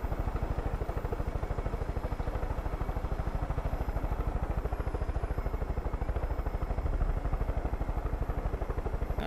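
A helicopter in the video game Far Cry 5 drones steadily and loudly throughout, a dense rhythmic rotor chop with a continuous engine hum running unbroken from start to finish.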